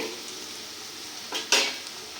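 Onions frying in a pan make a continuous soft sizzle, with a brief louder scrape of a utensil near the end.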